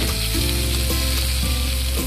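Spice paste for an egg and masoor dal curry frying in a pan, a steady dense sizzle throughout with soft scrapes of stirring, no voices.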